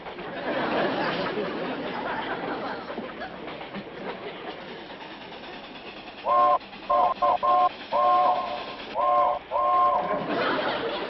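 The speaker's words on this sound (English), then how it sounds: "What kind of a railroad signal is that?" A train rumbles along under chatter, then a two-tone horn or signal sounds in a series of short repeated blasts.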